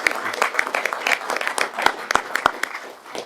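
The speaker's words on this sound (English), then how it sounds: "let's stop and applaud him" Applause at a University of Missouri Board of Curators meeting honouring a distinguished professor: a small group claps in a loose, uneven patter with a few louder individual claps standing out, fairly close.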